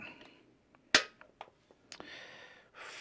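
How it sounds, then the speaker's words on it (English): A Springfield Hellcat pistol's trigger is pulled once on a trigger-weight gauge, giving a single sharp, close click, followed by a few softer mechanical clicks and light handling noise. "first trigger pull on the Hellcat"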